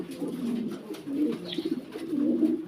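Pigeons at a pigeon farm coo in low, soft, repeated murmurs, faint and continuous with a brief chirp in the middle.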